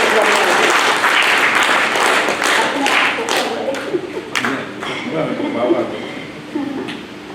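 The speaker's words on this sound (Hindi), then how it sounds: "सभी जोर से तालियां बजा करके" An audience at a spiritual gathering claps loudly for several seconds, a dense burst that tapers into scattered individual claps, with voices talking over it.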